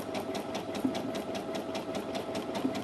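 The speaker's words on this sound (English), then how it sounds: "all I'm going to do is press the start button and it's going to stitch my buttonhole" A Brother A16 sewing machine stitches a buttonhole, its needle running in a steady fast rhythmic chatter with an even motor hum, close and continuous.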